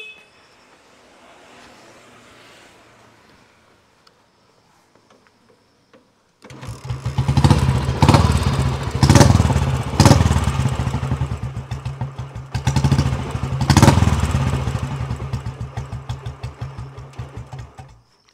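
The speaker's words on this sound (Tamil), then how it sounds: "இந்த வண்டியோட சைலன்சஸ் பீட் நான் ஸ்டார்ட் பண்ணி காட்டுறேன் எப்படி இருக்குன்னு பாருங்கள்" An old Royal Enfield Electra Bullet motorcycle kicks into life after a quiet stretch, its modified silencer then pounding out a loud, steady thumping exhaust beat with a few revs swelling and easing, close by and without talk.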